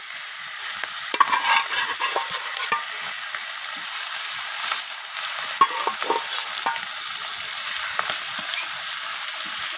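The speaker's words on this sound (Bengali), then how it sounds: "আবারও আমি বাকি মাছগুলো একইভাবে ভেজে নেব।" Shating fish fry in hot oil in a pan, giving a continuous bright sizzle with scattered pops, crackles and the scrape of stirring, close and steady for nearly ten seconds without any voices.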